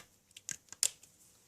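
Scissors snip through a cardboard Pringles tube in a few short, crisp cuts, quiet and close, with light rustling between the snips and no voices.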